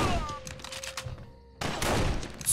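A Luger pistol fires in the video game Mortyr 3: one sharp, loud in-game shot bursts out after a quieter stretch and rings on at steady volume.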